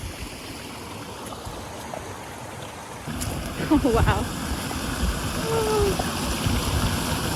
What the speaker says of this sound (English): It dumps out in a waterfall.